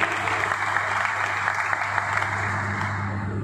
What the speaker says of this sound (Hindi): आप लोगों के लिए तालियां बजाइए